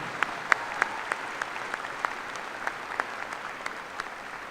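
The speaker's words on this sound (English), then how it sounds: "join me in a round of applause for our Board of Regents and their service" A large commencement ceremony audience applauds as a steady, distant wash of clapping, with a few sharper individual claps standing out nearer the microphone, lasting several seconds.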